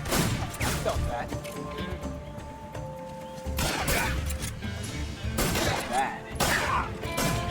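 Gunfire in the video game Metal Gear Solid 3 rattles out in repeated sharp bursts and volleys, loud and close, with voices heard in between.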